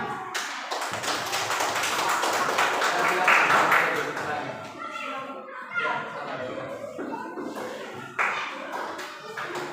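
Students in an Indonesian classroom give a round of applause after a group presentation; brisk clapping dominates the first several seconds, then fades into children's chatter and scattered taps.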